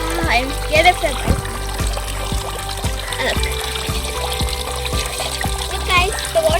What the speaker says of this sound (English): Look, guys, the water is running.